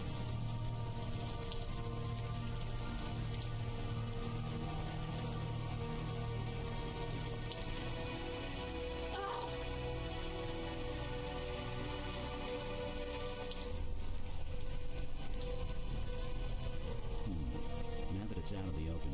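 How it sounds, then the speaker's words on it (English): Warm rain falls steadily in the Unavowed video game, a dense, even hiss that holds throughout and thickens slightly toward the end, with faint talk beneath. "The warm rain is coming down."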